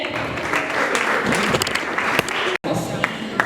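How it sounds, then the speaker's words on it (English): An audience at a project launch event applauds a guest, sustained clapping mixed with some crowd voices and chatter, briefly cutting out near the end. "Please clap for him once again."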